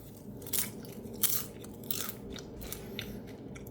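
Close, quiet crunching and chewing of crispy homemade popcorn, with irregular crackly bites over a soft steady background and no talking.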